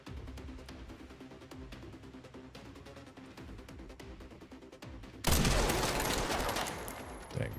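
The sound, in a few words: enemies firing guns at the player in Resident Evil Requiem video game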